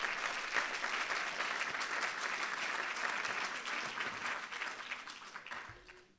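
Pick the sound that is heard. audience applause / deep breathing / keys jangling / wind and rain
audience applause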